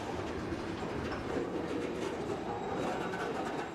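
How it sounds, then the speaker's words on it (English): A freight train with hopper cars rolls past, wheels rumbling in a steady, broad roar with faint clacking throughout, fairly close and unbroken. "this is the last car on this freight train"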